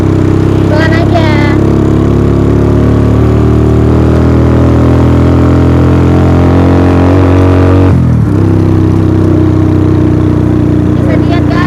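A motorcycle engine labours loudly on a steep uphill climb on a mountain road toward Punclut, Lembang, near Bandung, with a steady droning hum that briefly drops out near the end, while riders talk over it.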